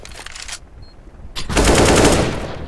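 Rapid bursts of automatic gunfire in a shooter video game, loud and close, with a short pause before a longer sustained volley.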